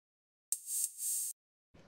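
A single hi-hat sample from an 808-style drum machine rings alone as a bright metallic hiss lasting under a second, then stops abruptly. A brief low sound follows near the end.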